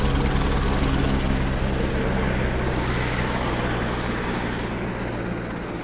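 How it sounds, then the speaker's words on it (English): A helicopter arriving at a remote mineral exploration site, a loud, steady rotor-and-engine roar with a throbbing low pulse that fills the whole stretch and eases off only slightly toward the end. "here comes my helicopter."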